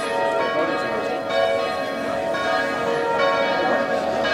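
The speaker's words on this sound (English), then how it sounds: "You lucky guys, you caught the bells again." Church bells at Spui, Amsterdam peal continuously, layered ringing tones sustained throughout, moderately loud over a crowded street backdrop.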